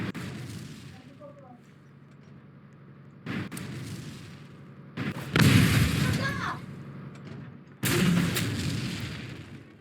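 Bursts of booming gunfire from the game War Tycoon erupt in several loud volleys separated by quieter gaps, with a voice speaking at times underneath.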